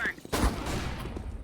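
Rapid AK rifle fire in Counter-Strike crackles in a quick burst of close, loud shots, trailing into echoing clatter.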